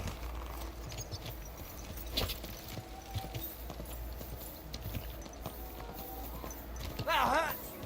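Rhythmic clip-clop of horse hooves walking in the video game Kingdom Come: Deliverance II, with a short whinny near the end and faint voices in the background.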